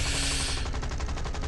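Rapid machine gun fire in the War Thunder aircraft combat game, a dense continuous burst over a low engine drone, steady and loud throughout with no talking.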